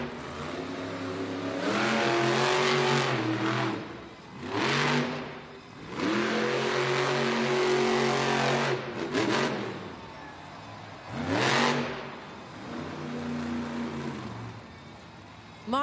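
The El Toro Loco monster truck's engine roars in repeated bursts during a timed race run at a Monster Jam arena event in Baltimore, surging and dropping loudly several times with short pauses between revs.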